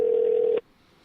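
A phone call rings through on a line, a single steady electronic tone held for about half a second before cutting off abruptly into near silence.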